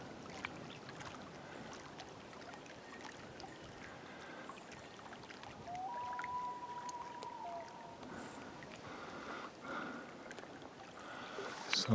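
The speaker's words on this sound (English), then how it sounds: "Sound of the loons." Loons call across a lake in Banff National Park: one faint, brief wavering cry rises midway through a quiet outdoor scene of soft water and wind hiss, with no speech.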